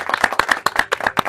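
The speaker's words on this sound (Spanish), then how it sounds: "recibámosle con un fuerte aplauso a Luis Díaz" A studio audience at a church talk show applauds to welcome an interview guest, a dense burst of hand clapping close and loud, with no speech over it.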